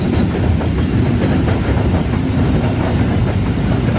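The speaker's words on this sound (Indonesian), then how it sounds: "Kereta barang tujuan Semarang dari Jakarta." A freight train running from Jakarta toward Semarang rumbles steadily past close by, its wheels clattering over the rail joints in a loud, continuous roar that never drops away.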